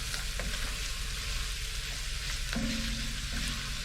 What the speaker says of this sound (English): So in goes my garlic. We can now stir in. Give that a few seconds just to cook off a little bit.